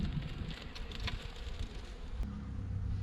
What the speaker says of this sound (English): So there's always bees